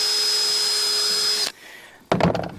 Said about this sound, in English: I'm gonna drill a hole in this cap right here